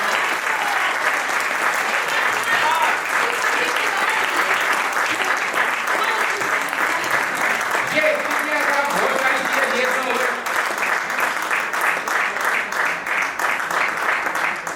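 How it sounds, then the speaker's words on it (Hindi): Sustained audience applause at a Hindi kavi sammelan poetry gathering, dense steady clapping that fills the whole stretch, loud and continuous with faint voices underneath. "अब क्या एक एक के कान में आके बोलूंगे ताली बंद करो।"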